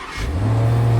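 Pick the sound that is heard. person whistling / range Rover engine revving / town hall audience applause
range Rover engine revving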